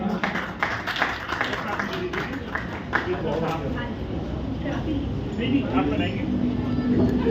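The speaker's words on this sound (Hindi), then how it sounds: "एक बार जोरदार तालियां।" Guests at a Rotary Club of Delhi Rohini installation ceremony clap heartily, the applause strongest early on and then thinning under ongoing talk and murmur.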